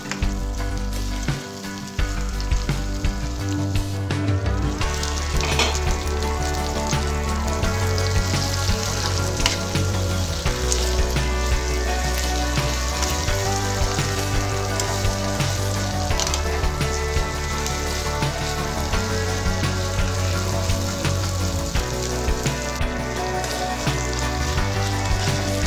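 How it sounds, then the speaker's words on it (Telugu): Brinjal pieces sizzle and fry in a pan over a low flame, a steady crackling hiss that continues unbroken throughout. "ఈ వంకాయ ముక్కల్ని సిమ్లో బాగా మగ్గనివ్వాలి."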